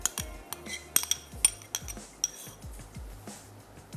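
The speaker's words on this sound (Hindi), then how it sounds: "उसमें ये तमाम सॉसेस और स्पेशली दही ऐड करके हम उसको अच्छा सा मिक्स कर" Spoon scraping and clinking against a frying pan while sauces and yogurt are stirred together for a desi masala pasta, with repeated light metallic knocks and scrapes, close and moderately loud, no voices.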